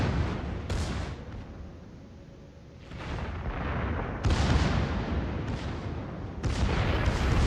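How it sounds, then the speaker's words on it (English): The Yamato battleship's secondary guns firing in a naval video game, rolling booms and rumbling blasts overlapping one another, heavy and sustained with loud surges near the four and six-and-a-half second marks. "Yamato's secondaries are going off."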